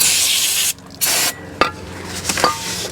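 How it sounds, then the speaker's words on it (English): Brake cleaner is sprayed onto a new rear brake rotor from a Toyota Camry in a few hissing bursts with short pauses between, followed by light clinks and rubbing. "I'm also gonna spray this off with some brake cleaner"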